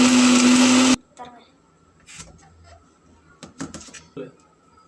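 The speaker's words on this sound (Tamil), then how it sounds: "மிக்சியில் அடித்தாச்சு" A mixer grinder runs loud and steady while grinding onion and tomato, then cuts off abruptly after about a second, leaving quiet kitchen clatter and a few soft knocks.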